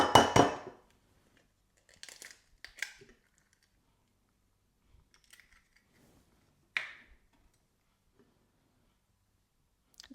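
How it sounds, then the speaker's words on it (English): Eggs are cracked and separated for salting the yolks: a few short, sharp cracks and taps scattered among long stretches of quiet, close and fairly soft. "now let's crack some eggs and separate the yolks"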